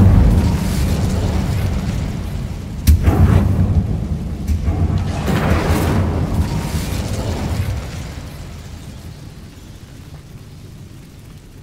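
Incendio fire spell cast in the Hogwarts Legacy video game, a deep rumbling whoosh with a sharp crack near the start, swelling and then fading away over several seconds.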